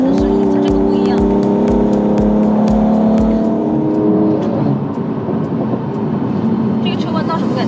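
A Mercedes-Benz E53 AMG engine and exhaust rev loudly and close up, the rough pulsing note rising steadily in pitch, then settling into a sustained drone as the car drives on.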